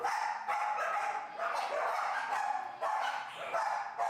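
Dogs bark and yip amid a constant, busy background of chatter and noise at a dog cafe, with the barking blending into the dense crowd sound rather than standing out.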